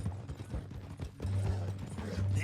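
Horse hooves clopping in the video game Red Dead Redemption 2, with a bound captive being carried toward Saint Denis: a steady run of soft, close clip-clops under a low rumble of ambient game sound.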